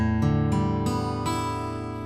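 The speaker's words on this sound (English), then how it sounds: "So the normal tuning of a guitar sounds like this." Open guitar strings ring out one after another in standard tuning, each note sustaining and building into a full, close chord.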